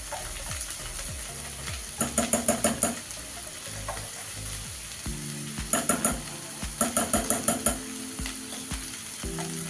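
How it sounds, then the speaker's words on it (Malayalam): Chicken biryani masala fries in ghee in a pan, a steady sizzle under bursts of rapid metallic scraping and clattering as a spoon stirs it, coming in quick rhythmic runs close by. "നമുക്കൊന്ന് ഇളക്കി കൊടുക്കാം."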